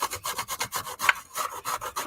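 Courgette rubbed by hand against a grater, with a steady rhythmic rasp of about ten quick strokes, close and fairly loud, with no talk.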